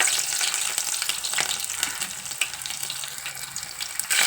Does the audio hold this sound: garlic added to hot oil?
yes